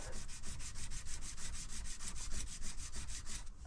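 A file is pushed again and again across a metal part for a custom motorbike oil line, taking out heavy grind marks. Close, steady rasping strokes repeat in a quick, even rhythm with nothing else heard.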